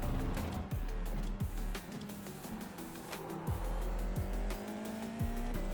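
Formula 4 race car lapping Silverstone in a racing game, its engine droning loudly throughout with repeated gearshift drops in pitch and faint tire squeal through the corners.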